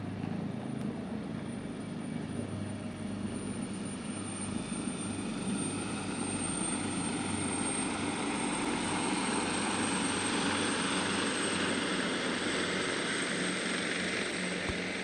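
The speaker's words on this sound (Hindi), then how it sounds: "एयरफोर्स का ऑगस्टा वेस्टलैंड 139 हेलीकॉप्टर।" An AgustaWestland AW139 helicopter of the air force flies over a military parade ground, a steady loud broadband rotor and engine roar that holds unbroken throughout, with no voices over it.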